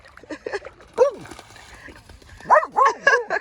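A cheerful shelter dog gives a few short yips and whimpering barks in bursts, close by, with people talking in between.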